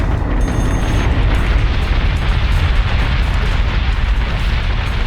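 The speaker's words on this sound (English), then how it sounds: "Missiles incoming!" Missiles explode in the space combat game Battlestar Galactica Deadlock as a loud, continuous rumbling roar of blasts that holds steady without pause or voices.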